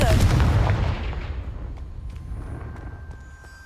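A Confringo blasting spell explodes in the Hogwarts Legacy video game, one loud booming blast at the start that rumbles and fades over a few seconds.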